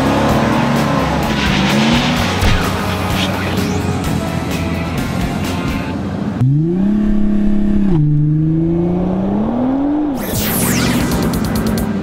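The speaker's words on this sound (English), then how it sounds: "It's the Hemi engine out of an SRT Jeep Grand Cherokee." A 2013 Jeep Wrangler with a 6.4L Hemi V8 from an SRT Grand Cherokee revs loudly up close in several surging bursts, with a deep rumbling idle between them and a sharp squeal near the end.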